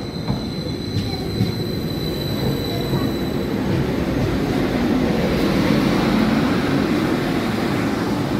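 A passenger train from Ipswich rumbles loudly into Bury St Edmunds station, wheels squealing with a high whine over a heavy low roar as it slows.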